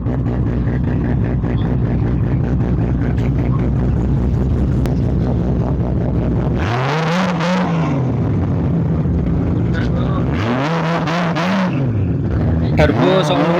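A Nissan Skyline GT-R R34 at a Kuwait drag race drones steadily, then surges into two loud revving sweeps with sharp rises and falls, while people talk over the engine noise.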